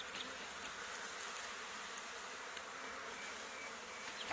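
Dense, steady drone of many honeybees swarming close around an open hive while honey supers are set out for the spring flow, a continuous bright buzz with no voices.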